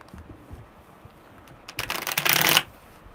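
Tarot cards are shuffled by hand, a quick burst of riffling and flicking that rises near the end after a quiet stretch, close and clear with no talking.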